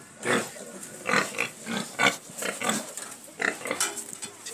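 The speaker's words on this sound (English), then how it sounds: "Little piglets." Little piglets on a farm give a run of close, soft grunts and snuffling oinks in uneven bursts, fairly quiet with no talk over them.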